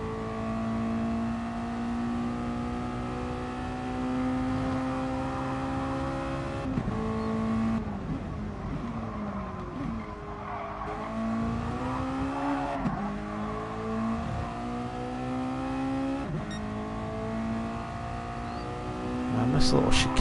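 A race car in GT Sport drones steadily through a hilly track section, engine note dipping under braking and climbing again as it accelerates downhill, with someone talking over the steady engine sound.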